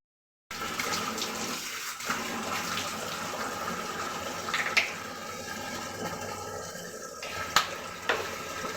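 Water running steadily from a tap while someone washes their face, a continuous close splashing hiss with a few louder splashes.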